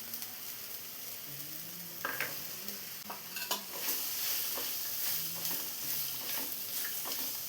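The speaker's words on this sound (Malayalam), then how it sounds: "ഇനി ഇതിലോട്ട് കട്ട് ചെയ്ത് വെച്ച മത്തങ്ങ കൂടെ ചേർത്ത് കൊടുക്കാം." Cut pumpkin is tipped into a pan of frying spices for a pumpkin curry, then stirred. A soft sizzle runs underneath as repeated spoon scrapes and clacks sound close up.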